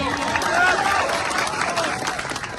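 Crowd applause and cheering for police officers at an outdoor political speech rally in Chhota Udepur district, a dense, steady wash of clapping and voices lasting the whole moment.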